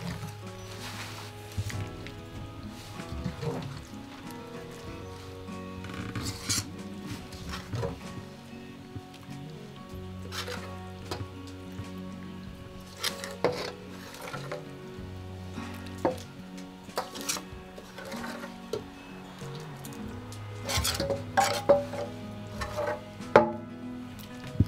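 Fried onion and spices being mixed by hand into a Burgos rice morcilla filling, giving soft wet squishing and scattered clinks of utensils against the bowl, with a low hum underneath and a few louder knocks near the end.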